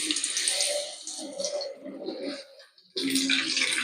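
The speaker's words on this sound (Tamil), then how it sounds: "இப்போ நாங்கள் இதை ஃப்ரை பண்ணிக்கலாம்." Snacks sizzle and bubble as they deep-fry in hot oil, a steady close hiss that briefly fades before surging again when more pieces go in.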